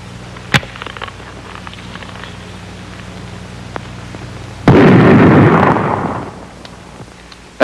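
An M1 Garand rifle fires on an outdoor range on a windy day, one sharp crack early and a louder booming blast later that rolls off over a couple of seconds, heard alone without speech.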